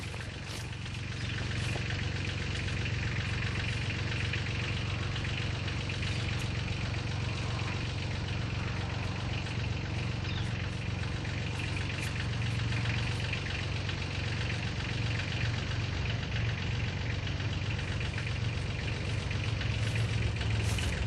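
Tractor engine running steadily while driving, a continuous low mechanical drone with faint knocking and vibration, fairly close and unbroken for the whole stretch.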